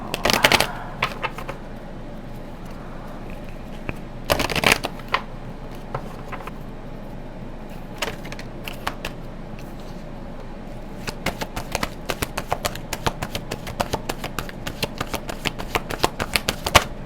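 A deck of oracle cards is shuffled in close, crisp bursts of riffling and fluttering, with several separate rounds spread across the stretch.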